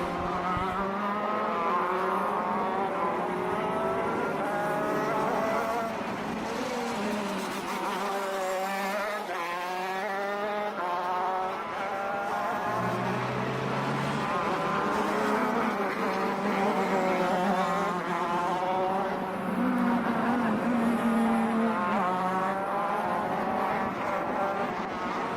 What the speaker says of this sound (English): Mini shifter 5-minute qualifying session on racetrack